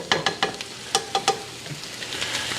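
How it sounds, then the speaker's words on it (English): Szechuan green beans being stirred in a stir-fry pan, a string of sharp utensil scrapes and clacks in a loose rhythm over a steady, close sizzle. "Make sure everything gets all nice and stirred around."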